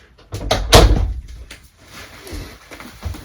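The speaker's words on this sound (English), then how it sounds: "Hold on, I gotta shut my door." A door is pushed shut indoors with a loud thump and rattle, followed by quieter shuffling and small knocks.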